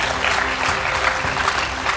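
An award show audience breaks into loud, dense applause that stays strong and continuous for the brief moment.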